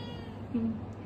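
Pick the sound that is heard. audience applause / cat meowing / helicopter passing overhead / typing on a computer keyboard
cat meowing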